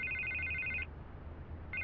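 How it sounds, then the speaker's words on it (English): Electronic telephone ringing in the Batman Telltale Series video game, a steady trilling ring that cuts off and then starts again, fairly quiet with no talk over it. "I can't get the phone to stop ringing."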